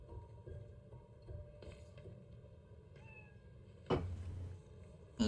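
In the Spider-Man: Miles Morales video game, a cat gives a few short, quiet meows against a faint background, ending in a brief louder thump.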